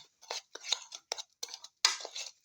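Eggs are beaten together with all-purpose flour and breadcrumbs in a bowl, heard as quick, separate taps and clinks of utensil on dish in short irregular bursts, close and soft against near silence.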